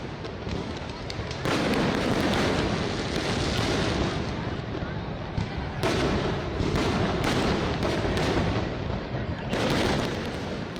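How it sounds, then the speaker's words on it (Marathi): Diwali fireworks at Chhatrapati Shivaji Maharaj ground on the last night of the festival: repeated loud bursts and crackling explosions, with sharp blasts recurring every few seconds over a continuous roar from the crowd. "आज दिवाळीच्या शेवटच्या दिवशी देखील फटाक्यांची मोठ्या प्रमाणात आतिषबाजी करण्यात आली आहे"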